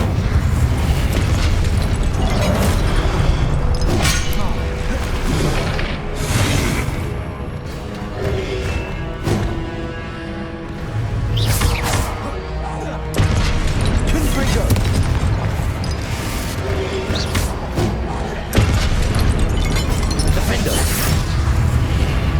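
Spell explosions in the game Hogwarts Legacy, a duel with cast blasts bursting repeatedly over a dense, loud battle mix while voices shout incantations.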